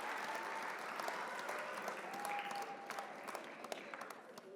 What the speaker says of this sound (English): Let's give a big round of applause, outsized round of applause